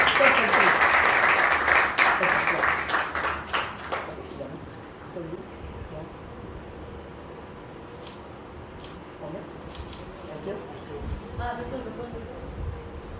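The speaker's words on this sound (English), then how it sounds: "Alright guys, can we have a round of applause?" An audience at a school interns' farewell event breaks into strong clapping for about four seconds, then it fades into room chatter and handling noises with a few brief claps later.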